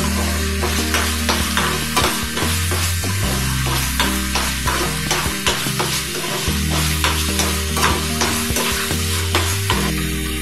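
Apple halwa mixture being stirred in a pan over a high flame: steady, rhythmic scraping strokes with a close frying crackle and a constant low hum underneath, no voices.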